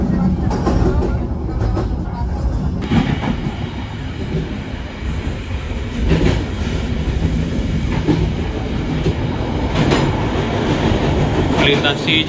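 Indonesian passenger train KA Kutojaya Selatan rolls across the Citiis bridge, a steady loud rumble of wheels and carriages with rattling clatter throughout, close and continuous with no talking.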